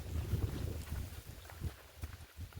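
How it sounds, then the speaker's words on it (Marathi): Strong wind gusting outdoors in a rural Konkan field, a steady low rumble buffeting the microphone, heaviest at first and then easing into intermittent gusts. "आणि वारा पण जोरात सुटला आहे"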